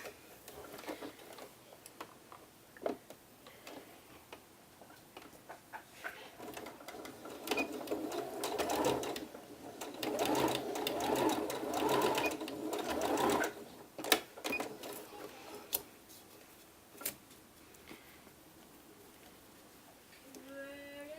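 A sewing machine stitching along a blouse cuff, a rapid mechanical whir that starts up, runs in steady bursts and then slows and stops, with some quiet clicks and handling noise around it.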